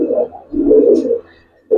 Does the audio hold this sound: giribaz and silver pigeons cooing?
yes